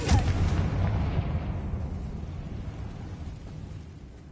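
In Hogwarts Legacy, a Confringo spell explodes in a loud, deep boom that rolls out and slowly fades over a few seconds, heard on its own.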